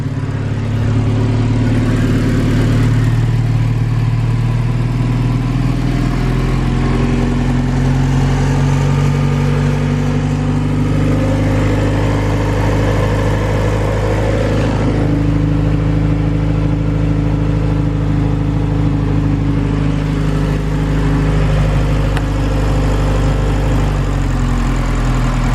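A turbocharged Honda CRX with a B20 VTEC engine and ramhorn turbo manifold runs at a steady, loud idle, a continuous low drone with slight rises in revs, no talk.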